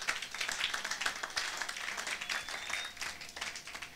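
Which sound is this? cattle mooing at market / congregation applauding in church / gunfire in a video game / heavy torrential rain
congregation applauding in church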